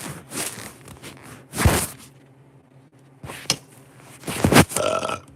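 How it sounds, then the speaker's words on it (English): A person burps repeatedly in loud, close, separate bursts with short quiet gaps between them, and the last burps grow longer and rougher. "burping and burping"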